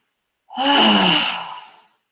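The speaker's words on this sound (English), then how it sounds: "So, big breath in. Audible exhale out." One long, loud audible sigh: a quick breath in followed by a drawn-out breathy exhale, heard alone and close.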